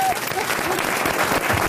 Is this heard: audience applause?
yes